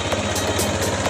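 A motorcycle engine, freshly started after sitting unused for about two weeks, idles with a steady, even low-pitched putter and rapid regular pulses, close and continuous with no talk.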